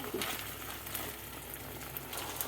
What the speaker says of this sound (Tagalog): Ayan na guys ang aking niluluto na beef.